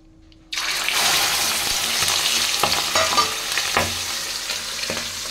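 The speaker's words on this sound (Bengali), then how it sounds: "তেলটা গরম হয়ে গেছে। এবার এই চর্বিগুলো ঢেলে দেবো" After a brief quiet moment, pieces of fish fat hit hot oil in a kadai and burst into a loud, dense sizzle that continues with popping crackles and occasional stirring clatter.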